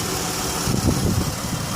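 A 3.6-litre V6 in a 2016 Dodge Caravan SE mobility van idles steadily, a low, even engine hum with faint vibration, close and continuous for the whole stretch, with no voices.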